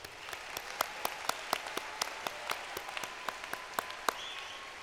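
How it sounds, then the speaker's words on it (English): Applause at a commencement ceremony, a moderate crowd clapping with distinct individual claps sharply audible over a softer wash, steady throughout. "Let's give them another round of applause."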